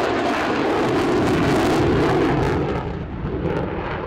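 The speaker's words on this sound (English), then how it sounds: "This is the variant of the F-35 designed for arrested landings on aircraft carriers" F-35C carrier-variant jet passing at an airshow, a loud broadband roar that holds steady and then eases slightly toward the end.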